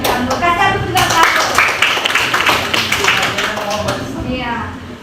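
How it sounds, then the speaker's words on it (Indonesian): A school class claps for a classmate, a burst of dense, lively applause from many hands, close by. It starts abruptly, builds, and tapers off over a few seconds, with voices mixed in. "Kita kasih aplaus untuk Rahmi"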